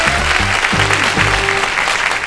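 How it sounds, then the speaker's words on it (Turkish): Studio audience on a Turkish quiz show applauding a contestant, a burst of many-handed clapping with a musical sting or low tones underneath, fairly loud and sustained. "Alkış Arzu'ya."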